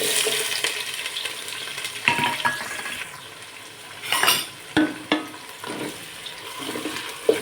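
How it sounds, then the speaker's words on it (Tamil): Onions frying in ghee with cinnamon, cloves and cardamom for prawn biryani, giving a soft hiss with scattered scrapes and clatters from a spoon on the pot, and no voices. "வெங்காயம் பொன்னிறமாக நல்லா வதங்கணும்"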